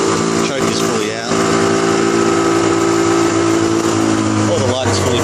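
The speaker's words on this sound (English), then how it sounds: "It's idling a little bit high at the moment, but that usually goes down soon." A cold Suzuki RGV250 two-stroke motorcycle engine with the choke fully out idles a little high, a loud, steady buzzing hum, with brief voice sounds over it.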